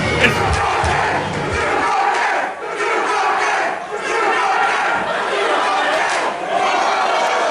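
A wrestling arena crowd roars and cheers continuously at a live show, a dense, loud wall of voices that swells and dips slightly, with occasional shouts standing out.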